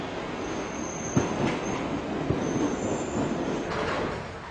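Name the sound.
Hammersmith and City line Tube train arriving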